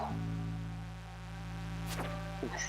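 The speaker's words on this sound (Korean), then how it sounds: "아 이제 또 이상한 벌레 하나 왔네" Buzzing insect drone from a bug monster in the Stardew Valley video game, a steady hum with game music tones layered over it, joined near the end by short chirping effects.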